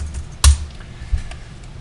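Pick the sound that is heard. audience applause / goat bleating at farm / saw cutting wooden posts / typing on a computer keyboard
typing on a computer keyboard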